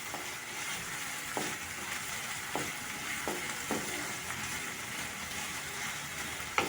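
Onions fry in hot oil for keema rice, a constant crackling sizzle with a few brief stirring scrapes and knocks scattered through.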